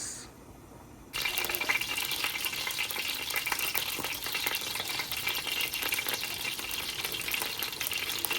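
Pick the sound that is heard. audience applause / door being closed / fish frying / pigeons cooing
fish frying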